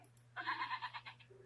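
A single synthetic sheep bleat from the Teletubbies Control Panel video game, a wavering bleat of about a second, clear and close over a steady low hum, with no talking.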